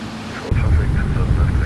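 Boeing 777-200 engines idle in the X-Plane 12 flight simulator, a steady broadband rumble and hiss that grows louder partway through, with a voice talking over it.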